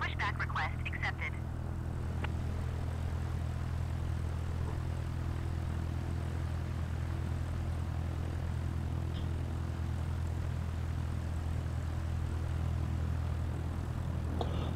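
Steady drone of an aircraft engine idling while taxiing in Microsoft Flight Simulator 2020, continuous and even throughout, with a few brief higher chirps at the start.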